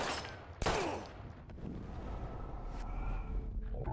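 Gunfire in the video game Life Is Strange, a loud sharp blast followed by rumbling, chaotic noise and scattered impacts that carry on underneath.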